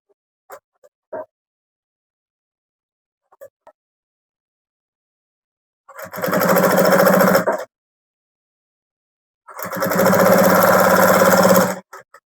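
A sewing machine runs two close, loud bursts of fast stitching, each about one and a half to two seconds long, sewing a seam on a fabric bag, with a few faint fabric rustles in the quiet before them.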